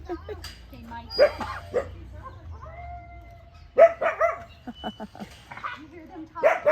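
Wild canids at a wildlife conservation center give a few short, sharp barks and yips in bursts, with people talking nearby between and over them.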